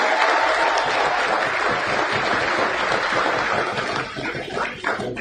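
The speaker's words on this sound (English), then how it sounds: "And round of applause for Australia," Applause for the Australia U18 football team at a Festival of Football gathering with New Zealand U18, a dense, steady crowd clapping that fills the whole stretch and thins slightly near the end.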